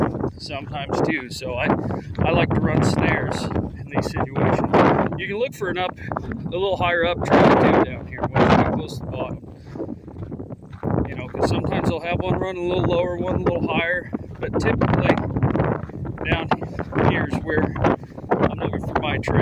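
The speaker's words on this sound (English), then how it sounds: "Pardon the wind, guys." Outdoors on a breezy afternoon, gusts of wind buffet the microphone in low, rumbling bursts, heard beneath someone talking nearly the whole time.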